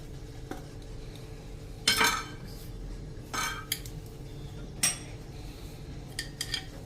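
Dhokla batter being poured into two plates for steaming: a few sharp clinks and scrapes of utensils against the metal plates, spaced out against a quiet kitchen background with no talk.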